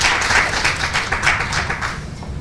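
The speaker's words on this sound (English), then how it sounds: "And another round of applause for all you guys that came out." Dense, steady applause from an audience at a poetry event, many hands clapping together at close range, sustained and moderately loud with no talking.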